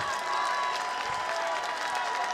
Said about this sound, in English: Great crowd. Everybody's up. A lot of noise out here on Lake Avenue right now.